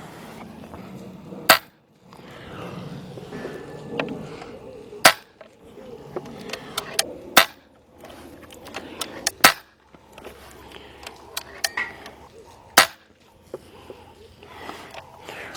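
A Nova Vista HP-M900 air rifle fires five H&N Field Target Trophy pellets over a chronograph, each shot a sharp, loud crack spaced a few seconds apart, with quieter handling noises and low background sounds in between.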